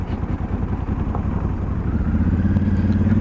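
A Honda Africa Twin motorcycle riding on a gravel path, with a close, rumbling engine and a rhythmic low throb under scattered crunching and clatter from the loose surface. No one speaks.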